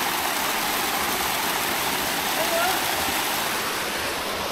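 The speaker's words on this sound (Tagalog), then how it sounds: "medyo mahina yung tulo ng tubig gawa ng hindi pa masyadong nag-uulan" Weak waterfall at Mandala Falls in a nature park in Bulacan, a steady, dense hiss of falling water heard close and constant throughout, with no clear breaks.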